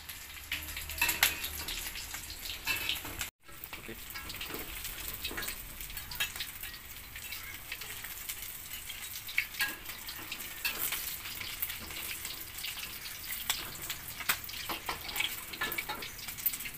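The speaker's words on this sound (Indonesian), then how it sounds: "menggoreng tempe dan terong" Steady crackling sizzle of tempeh and eggplant frying in hot oil, close and continuous, with a brief dropout partway through.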